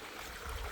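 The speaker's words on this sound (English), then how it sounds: "exploring a stream and rocks and running water" Running water of a stream spills over rocks in nature, a steady close rushing wash that fills the short moment without a break.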